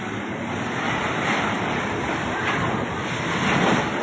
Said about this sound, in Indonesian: Laut pantai selatan ngamuk.